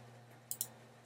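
Two quick, faint computer mouse clicks about a tenth of a second apart while saving a file in Adobe Muse, heard over a low, steady electrical hum.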